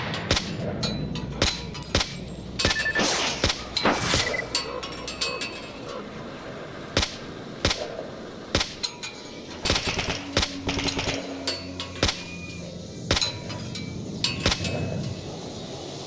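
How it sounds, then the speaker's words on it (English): Sharp, scattered gunshots ring out in an exchange of fire between rooftop towers in the video game Stalker Anthology, irregular single cracks and short bursts over a steady ambient hum. "Trading gunfire with those assholes on the tower next door."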